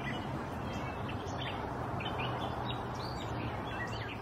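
A gray catbird sings a varied string of short, squeaky, mimicking chirps and phrases in Riverside Park, St. Paul Park, faint and distant over a steady hiss of background noise.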